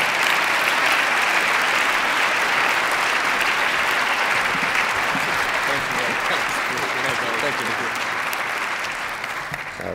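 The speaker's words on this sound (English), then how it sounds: "Let's give a round of applause for the one and only Larry Baer." Sustained audience applause at a downtown business keynote event, a dense, steady wash of many hands clapping for the full length, loud and even before easing slightly near the end.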